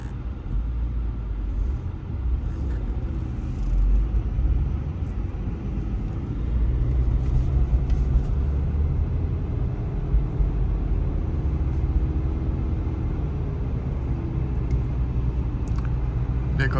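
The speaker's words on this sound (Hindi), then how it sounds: "ट्रैफिक आज ज़्यादा है थोड़ा, क्योंकि वर्किंग डेज है ना, वीकेंड नहीं है ना, इसलिए ट्रैफिक थोड़ा ज़्यादा है।" Steady roar of highway traffic on Ontario's Highway 401 near Kingston on a busy weekday, a continuous low rumble of passing cars and trucks with no voices.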